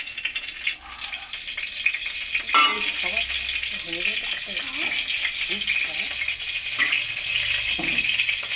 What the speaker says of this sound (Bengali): তো আমি পাস্তাটা দিয়ে নাড়ছি